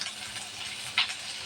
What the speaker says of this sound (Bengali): তেল গরম হয়ে গেছে, পেঁয়াজ কুচি আর রসুন কুচি।